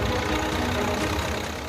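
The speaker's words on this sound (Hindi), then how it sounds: "अपने 5 बीघा खेत में तैयार खड़ी गेहूं की फसल पर ट्रैक्टर चला दिया" A tractor engine runs steadily as it is driven over a five-bigha field of ripe standing wheat, a loud, close, continuous rumble and drone with no voices.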